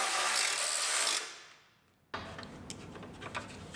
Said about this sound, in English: And we can bolt our headlight mounting panel in.